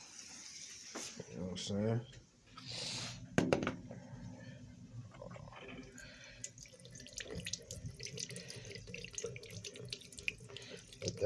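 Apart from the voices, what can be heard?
lukewarm tap water running over food in sink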